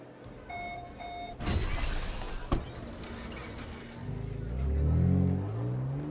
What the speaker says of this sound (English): Nice sound effect of car.